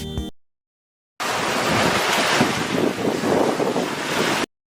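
Sea waves crash and breeze blows at Burla Zero Point. After a short cut-in, a loud, continuous roar of surf and rushing wind fills a few seconds without any voices.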